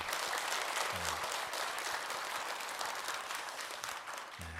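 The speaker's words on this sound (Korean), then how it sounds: "하나님께 영광의 박수 올려드리도록 하겠습니다." A church congregation gives a sustained round of applause after a Sunday service, a dense even wash of many hands clapping, with a couple of faint, brief vocal fragments underneath.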